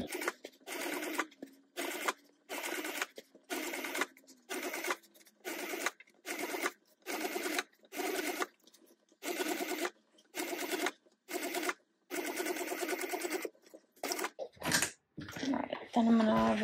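A sewing machine stitches a tote bag seam in short, rapid bursts of whirring, a dozen or so runs separated by brief pauses, close and clear.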